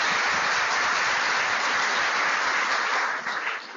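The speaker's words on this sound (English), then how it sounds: "Let's give Danielle a round of applause" A round of applause fills the room for a visiting presenter at a talk on communication and leadership styles, steady dense clapping from a seated audience that stays loud throughout and thins slightly near the end.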